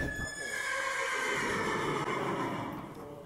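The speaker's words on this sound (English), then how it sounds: "Oh, there's another horse behind me." A horse whinnies loudly in a horse-riding video game, the drawn-out neigh filling the clip over a steady game background and fading slightly toward the end.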